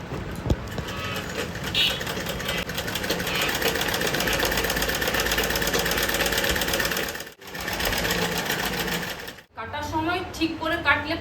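Sewing machine stitching along the edges of a cloth sash for a Rabindra dance costume, running in a steady fast mechanical chatter for most of the stretch with two brief stops, then a voice speaks near the end.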